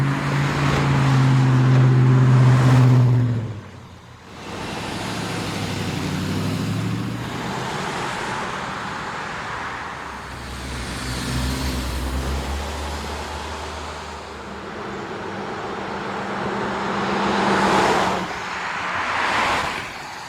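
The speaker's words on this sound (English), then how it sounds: "we will go out to a really busy street. So cars go by, and then you can see the cars pass from left to right and hear what that sounds like." Cars pass one after another on a busy street, each swelling and fading as it goes by, with low engine rumble and tire roar over steady traffic noise, captured through a mid-side stereo shotgun microphone.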